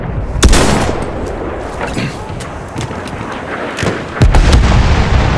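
Enemy machine gun fire and heavy battlefield blasts from the Battlefield 1 video game, a loud, dense barrage of sharp cracks and booms that keeps going throughout.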